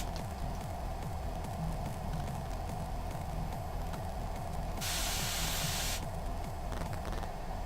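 Aquabot water bottle spraying in mist mode, a close continuous hiss with a brighter burst partway through, steady and alone with no talking.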